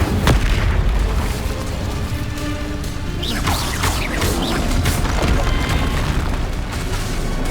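Repeated Confringo blasting-spell explosions in Hogwarts Legacy, a dense, continuous run of loud booms and crackling bursts layered with whooshing spell effects, with no pause.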